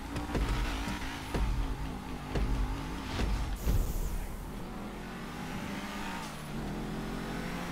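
A car in Grand Theft Auto V drives and revs, with engine surges rising and falling and a few sharp clicks and thumps, close and steady, no talk.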